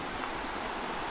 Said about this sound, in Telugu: సౌండ్ అయితే అప్పుడే నాకు వాటర్ ఫాల్స్ సౌండ్ అయితే వస్తుంది.